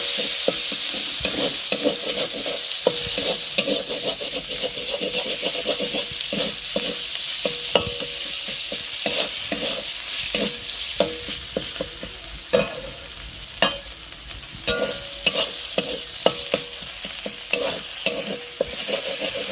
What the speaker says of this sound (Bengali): পেঁয়াজ বাটাটা ভালো করে কষিয়ে নেব